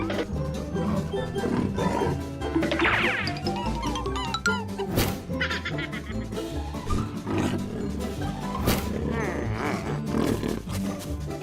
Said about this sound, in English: Your roar sounds like a pathetic squeak.